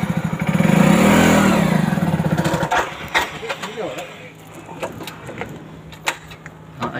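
A Hero Splendor motorcycle engine revs loudly and close, rising and falling in pitch before dropping to a rough idle as the bike pulls away in first gear, with voices talking over it.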